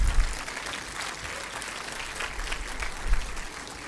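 Dense audience applause welcoming the director of IIT Mandi to a lecture hall, a continuous crackle of many hands at moderate distance with a couple of louder swells.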